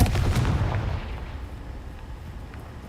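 A Confringo blasting spell detonates in Hogwarts Legacy as one heavy, booming explosion, loud at onset and rumbling away into a fading low tail, with no voices over it.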